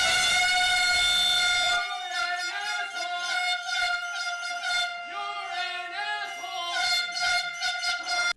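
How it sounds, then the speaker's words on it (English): Loud, sustained blaring air horns at a protest sound continuously, then keep wailing in long, wavering blasts with a shifting pitch. "blowing air horns, drumming drums"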